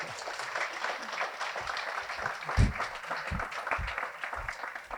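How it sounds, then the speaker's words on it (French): Audience at a Paris tech meetup applauding a project team, a moderate, even spread of clapping across the room with a few low thumps mixed in. "que vous pouvez applaudir."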